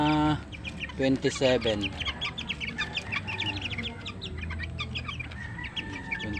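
Young chicks, less than a month old, cluck and peep close by in a continuous stream of short calls, with someone speaking briefly over them.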